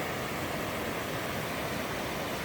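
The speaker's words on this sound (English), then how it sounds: "Check out the cool little waterfall." A small mountain waterfall in the Wind River Range rushes in a steady, close, full hiss of falling water, unbroken and alone.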